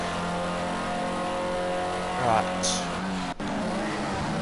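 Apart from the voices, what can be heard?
Formula C race car warming up tyres on track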